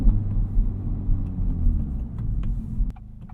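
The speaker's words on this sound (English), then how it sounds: "I'm going to start this drive off in yours truly, the Integra Type S." An Acura Integra Type S drives along the street, giving a steady low engine and road rumble from inside the cabin. The drone holds constant and then drops in level near the end.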